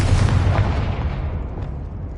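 A Confringo blasting spell explodes in the Hogwarts Legacy video game: one loud, booming blast with a heavy low rumble that slowly fades over about two seconds.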